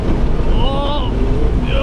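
A 2019 Suzuki Jimny pushes through a nearly bumper-deep water crossing at Mavora Lakes, New Zealand, with a loud, steady rush of water and engine noise, heavy wind buffeting and a faint voice.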